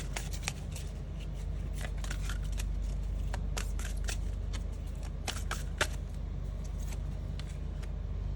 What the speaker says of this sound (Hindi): मैं कुछ और भी कार्ड्स उठाना चाहती हूँ इसे क्लियर करने के लिए।